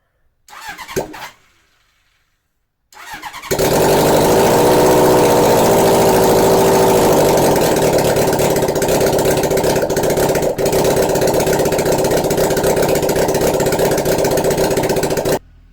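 A couple of brief engine cranks, then a Honda CB750 motorcycle engine mounted on a go-kart roars to life and settles into a loud, steady idle that runs on without pause.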